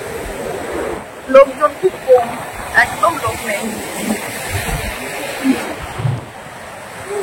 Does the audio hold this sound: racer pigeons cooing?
no